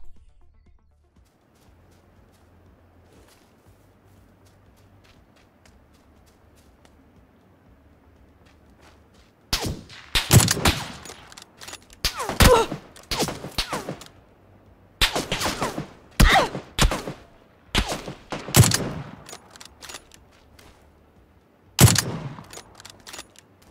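UMP submachine gun bursts in PUBG, several sharp, loud clusters of rapid shots separated by short pauses after a quiet stretch.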